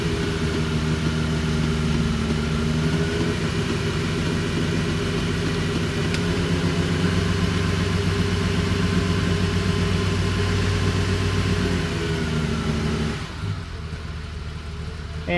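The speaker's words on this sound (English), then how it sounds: "You can see our idle's a little bit low because it's just a little cold." A cold 1967 Ferrari 275 GTB/4 engine idles a little low in a garage, a close, steady low rumble that holds evenly for most of the clip before dropping away near the end.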